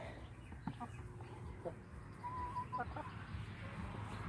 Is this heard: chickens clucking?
yes